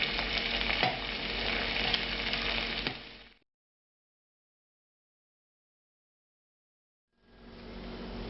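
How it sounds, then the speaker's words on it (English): Angel hair pasta tossed in butter in a hot pan, with a steady sizzling and stirring rattle that cuts off into silence, then resumes near the end. "Now the pasta's had a few seconds in that butter. I'm going to toss it around a little bit here."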